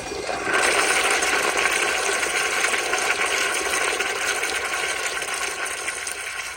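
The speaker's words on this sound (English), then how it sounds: "here is a flush" A 2018 Kohler Dexter urinal fed by a garden hose flushes with a sudden loud rush of water that runs steadily for several seconds, close by.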